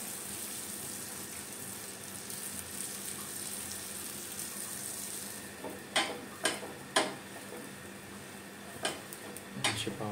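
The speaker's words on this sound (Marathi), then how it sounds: "हे असे दोन मी हे करून असे प्रॉपर स्लो ह्याच्यावरती भाजून घ्यायचे" Pav bread toasting slowly in butter on a pan gives a low, steady sizzle, with a few sharp clatters of a spatula against the pan near the end.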